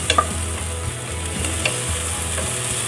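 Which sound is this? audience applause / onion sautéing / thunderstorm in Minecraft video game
onion sautéing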